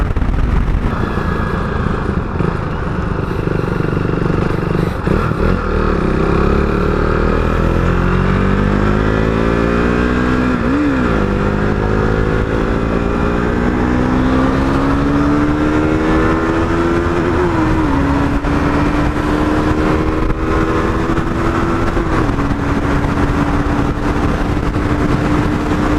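A KTM 390 Adventure motorcycle at highway speed: a steady, loud engine drone mixed with wind rush, its pitch climbing and dropping through a couple of gear changes before settling at a constant cruise.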